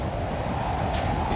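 Hurricane Andrew's winds roar outside a house, a loud, continuous, broadband rushing noise with no break across the short stretch.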